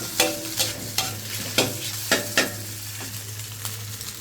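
A spatula scrapes and clacks against a pan in a quick, regular rhythm as crab sticks are stirred for dry suki, over a soft sizzle and a low steady hum.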